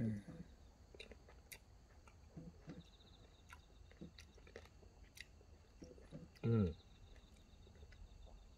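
Crunchy Shine Muscat grapes fresh from a vineyard in Gangjin are chewed up close, with repeated crisp bites and wet crunching in an uneven rhythm, broken by short bursts of voice.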